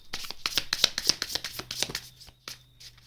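Tarot cards riffle and shuffle in rapid, crisp bursts of papery flicks and slaps, fairly close and continuous for a few seconds before easing off, with no talk over them.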